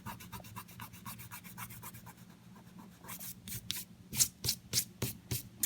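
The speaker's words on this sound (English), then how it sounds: "And then just rub this off with your finger." Dried masking fluid being rubbed off watercolor paper with a fingertip: a soft, close-up rasping and scrubbing that begins as quick light strokes, then turns into louder, slower, separate rubbing strokes toward the end, with no voices.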